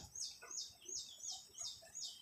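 Sooty-headed bulbul (kutilang) chirping in a repeated series of bright, rising-falling whistled calls, about two per second, close and clear with no talk.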